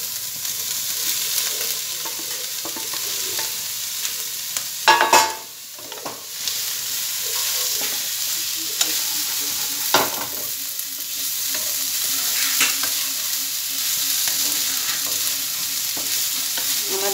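Vegetables are added and stir-fried in a hot pan, giving a steady hissing sizzle for a long stretch, broken by scraping spatula strokes, one louder clatter partway through, and occasional sharper knocks.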